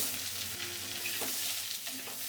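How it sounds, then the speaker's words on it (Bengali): Moringa drumstick pieces fry in a pan for a vegetarian vegetable dish, a close, even sizzle with a few spatula scrapes over a couple of seconds and no voices. "সাজনে ডাঁটাগুলোকে আর ডাঁটাগুলোকে ভেজে নেবেন।"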